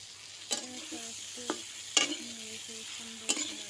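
Pointed gourd frying in a pan over a wood-fired clay stove is stirred, giving four distinct scraping clatters of the spatula over a steady, quiet sizzle, with no talk.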